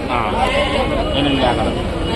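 Goats at a village livestock market bleat under continuous loud crowd chatter and bargaining voices, the animal cries short and partly buried in the busy outdoor din.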